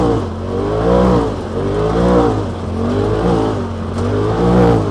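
Polaris RZR XP Turbo side-by-side running on E85 fuel, climbing in low gear: a loud, close engine drone that swells and eases in repeated revving waves.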